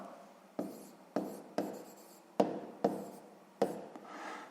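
Pen scratching across paper while working a sixth-grade long-division exercise, six or seven distinct strokes in a steady, close rhythm, each starting with a sharp onset and trailing off, no voices.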